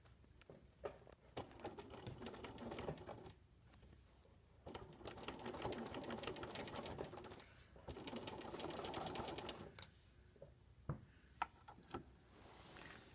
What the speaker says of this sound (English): I'm ready to sew a 1/2 inch seam